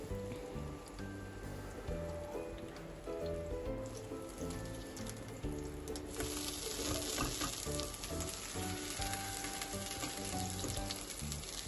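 Grilled chicken keema kebab balls fry gently in oil in a pan over low heat, a dense crackling sizzle like light rain that carries on steadily throughout, with faint music underneath and no speech.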